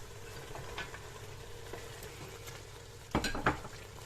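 A spoon stirs spices and carrots in a pot while preparing Kabyle semolina dumplings, a soft steady scraping under a faint sizzle, then two sharper clinks of metal near the end.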